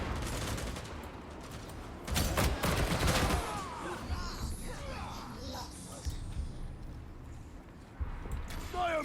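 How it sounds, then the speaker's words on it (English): Gunfire in the Warhammer 40,000: Darktide video game, bursts of rapid shots clustering loudly around the middle and recurring sporadically over a dense battle din, with voices shouting in the mix. "They are shooting at us!"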